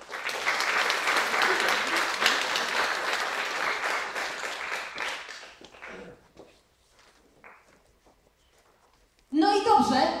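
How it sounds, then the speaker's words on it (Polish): An audience applauds at a concert in Białystok, dense clapping for about five seconds that thins out and fades, followed by a short burst of speech. "Oklaski."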